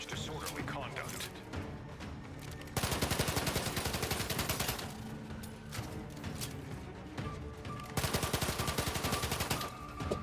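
Sustained automatic gunfire from The Outer Worlds 2 hammers loud and close in long continuous bursts with short pauses, a dense stream of rapid shots under game ambience.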